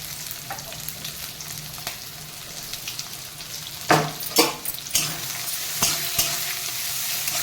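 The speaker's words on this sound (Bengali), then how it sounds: "আমার তেল গরম হয়ে গেছে আমি রসুনটা পেঁয়াজটা ভেজে নেব" Garlic and onion frying in hot oil: a soft, steady sizzle broken by several louder bursts of stirring and scraping in the pan, close by with no talking.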